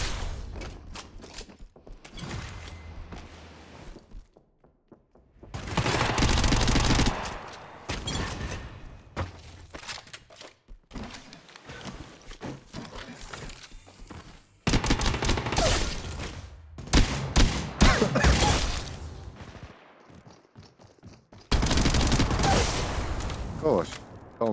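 Apex Legends Mobile in first-person mode: bursts of automatic weapon fire come in loud, dense volleys broken by quieter stretches of clicks and mechanical reload noises, with a player's voice talking over parts of the action.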